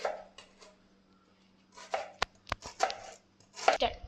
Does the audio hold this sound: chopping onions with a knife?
yes